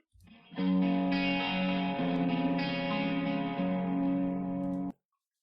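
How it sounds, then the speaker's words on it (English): A sustained tone drenched in heavy reverb with a slightly distorted, clipped edge, held for several seconds before cutting off abruptly. "Absolutely tons of reverb, and we are clipping a little bit."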